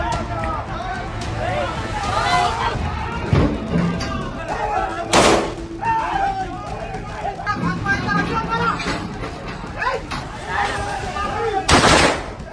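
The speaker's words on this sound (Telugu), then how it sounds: "మల్లన్న గన్మెన్ గాల్లోకి 5 రౌండ్ల కాల్పులు జరిపారు" Gunfire from a gunman shooting several rounds into the air outside an office in Medipally during an attack, heard as a few sharp loud cracks spread through a noisy crowd with shouting and babble.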